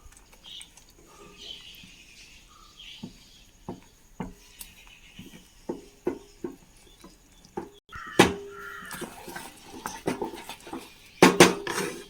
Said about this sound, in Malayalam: നമുക്കൊരു 3/4 കപ്പ് റവ ഇട്ട് കൊടുക്കാം ഇതിലേക്ക്. സ്ലോവിൽ ഒന്ന് ഇളക്കി കൊടുക്കാം.